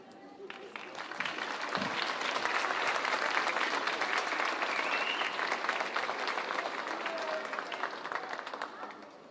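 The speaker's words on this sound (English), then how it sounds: "Let's give one more huge round of applause for our Joe Garcia New Image Award recipients." Applause from the audience at a school district elementary awards ceremony, a full, steady round of clapping from a large crowd lasting several seconds before easing off, with faint voices underneath.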